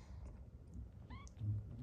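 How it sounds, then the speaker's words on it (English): A small runt kitten on a farm gives a single thin, rising meow, short and fairly close, over a low background hum. "we got a rogue little kitty"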